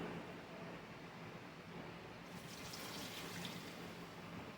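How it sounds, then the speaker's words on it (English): Water poured from a tap or jug into a pot on the stove, beside heating seasoned meat, for a low-sodium pantry pasta; a steady, moderately quiet pouring rush starts partway through and continues to the end, with no talk. "We're going to put our water in first."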